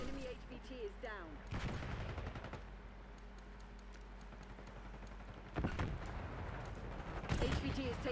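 Gunfire in Call of Duty Black Ops 6 comes in loud, sharp bursts near the start, middle and end over a steady low rumble, with a voice talking between the shots.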